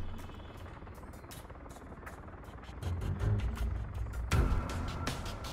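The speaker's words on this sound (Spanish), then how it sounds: "Ese helicóptero viene por acá, güey." A helicopter in the video game Arma 3 approaches with a rapid, steady rotor chop over a low engine drone, growing louder toward the end, with brief speech underneath.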